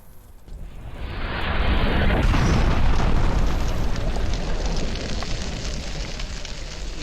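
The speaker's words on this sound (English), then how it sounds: "He arrives in a fiery explosion." A fiery explosion sound effect swells from a rising rush into a long, roaring, rumbling blast that slowly settles into crackling fire, loud and deep with no speech.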